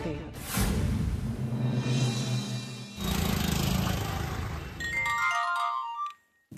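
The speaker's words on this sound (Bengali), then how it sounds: "আরে দেখছো যখন ফোন বাজছে তুলতে পারছো?" A mobile phone ringtone plays loudly in a Bengali TV serial scene. It rings as a continuous melodic tone for about six seconds, then cuts off abruptly near the end.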